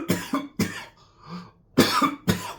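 Several harsh human coughs in quick bursts, close and fairly loud, two pairs separated by a brief quieter stretch of throat noise.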